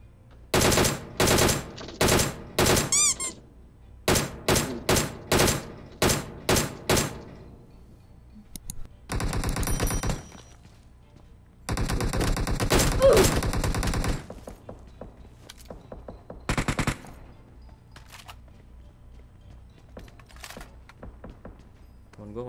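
Bursts of video game gunfire, sharp repeated shots in short clusters and longer sustained volleys with quiet gaps between, under occasional talking.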